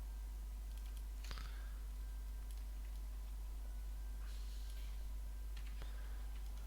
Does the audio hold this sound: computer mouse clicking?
yes